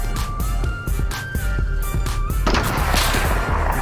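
Rapid gunfire from Fortnite gameplay rattles in repeated bursts, loud and close, with a denser, noisier stretch of shooting in the last second or so and no talking.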